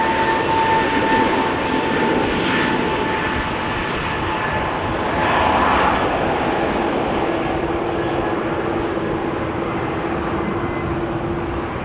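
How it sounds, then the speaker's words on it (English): An Airbus A220 jet at Amsterdam Schiphol Airport on a rainy day drones loudly and steadily, its engines giving off a wavering, whale-like hum that rises and falls over the roar. "Whale sounds emanating from the A220, which has engines that are closely related to those of the E2 Embraer 195s."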